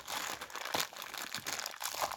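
A crinkly plastic mystery packet from a pile of video game pick-ups is handled and opened, giving a close run of crackling, rustling crinkles with a few sharper bursts and no speech.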